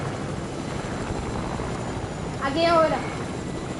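A helicopter in a video game drones with a steady rotor whir throughout, while a voice talks briefly over it.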